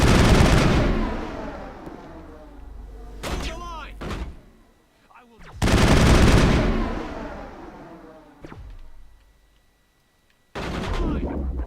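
Gunfire in Mass Effect 1 comes in loud bursts of rapid automatic shots, separated by brief gaps and sharp single cracks, with someone talking between the bursts.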